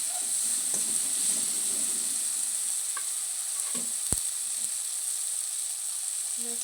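Ginger garlic paste sizzles steadily in hot oil, a continuous frying hiss with a few soft stirring clicks and one sharp knock partway through, close and moderately loud, no voices.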